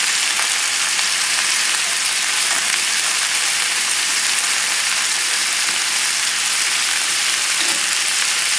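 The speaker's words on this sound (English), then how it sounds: "as the vegetables are sauteing in the back there" Vegetables sautéing with garlic and ginger in a hot pan, a steady loud sizzle hissing without a break throughout.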